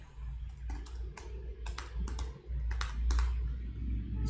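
A username and password being typed on a computer keyboard, with bursts of quick key clicks in an uneven rhythm over a low steady hum, close and fairly quiet.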